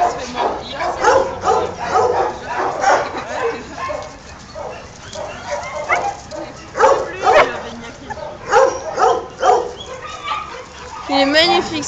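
Small dog yips and barks repeatedly, close by, mixed with whimpering, over a steady background of people talking.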